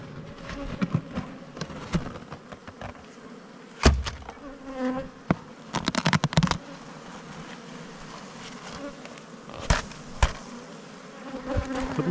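Honey bees swarm and buzz from an opened white hive crowded with brood frames, a steady close hum with sharp louder bursts as bees fly past, occasional knocks of hive equipment.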